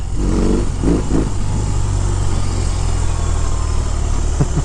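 A loud 2022 BMW R18 1800cc cruiser motorcycle engine revs and roars steadily up close, a deep continuous rumble with brief rises in pitch.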